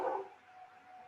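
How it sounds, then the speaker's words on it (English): A dog gives a single short bark or yip during an online village council meeting roll call, followed by quiet room tone. "That's my dog."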